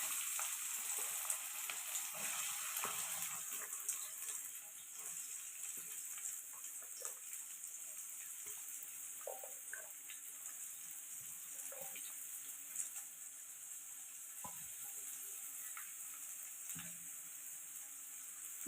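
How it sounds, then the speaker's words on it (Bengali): Chopped onions fry in hot refined oil in a wok with a faint, steady sizzle, occasional soft stirring clicks and scrapes rising over the continuous hiss. "কড়াই তেল গরম হয়ে গেছে। এবার আমি পেঁয়াজ কুচিগুলো দিয়ে দেবো।"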